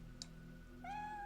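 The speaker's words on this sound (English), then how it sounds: "Cat? Yes, you are my cat. That's my cat." A single clear meow from a cat in the horror video game Fatal Frame III comes late and stands out against a quiet, humming background.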